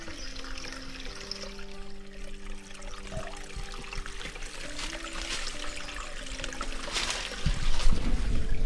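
Fresh mountain water on a farm trickling and pouring steadily, a continuous bright splashing wash, close by, with a low hum in the background.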